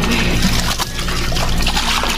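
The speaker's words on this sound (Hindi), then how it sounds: "हाँ मैं पानी भरत होती बारिश नहीं पानी भरत।" Water runs steadily from an opened tap while a container fills, a close continuous trickling and splashing with no talk.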